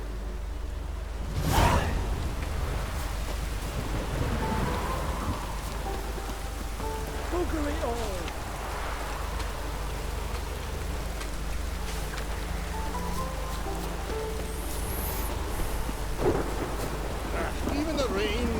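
Steady rain falls over a town in The Witcher 3, a constant wash with a sharp thunder crack near the start, and a voice speaks briefly over the downpour.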